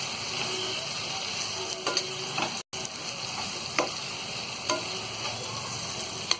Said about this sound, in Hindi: अब हम इन टमाटरों को अच्छी तरह मिक्स कर लेंगे।